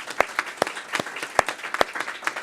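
Audience at a panel discussion on financial stability and growth in Africa claps briefly, a moderate scatter of distinct hand claps spread across a couple of seconds, fairly close, with no talk over it.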